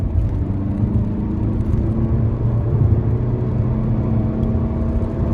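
A Fiat Egea Cross 1.6 manual's engine drones steadily from the cabin, a low rumbling hum that rises slightly as the car speeds up, with no voices.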